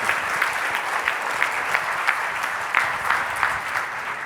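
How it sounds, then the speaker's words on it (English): Audience applause at a tech summit honoring the founder and Intel, loud and steady clapping from a large crowd with individual claps standing out through the wash, sustained throughout with no speech. "a huge round of applause"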